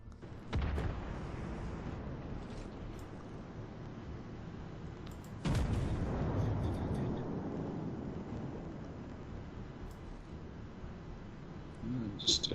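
Heavy naval guns of the battleship South Carolina firing in a warship video game, two deep booming salvos several seconds apart that trail off into a low rumble, with a softer crack near the end.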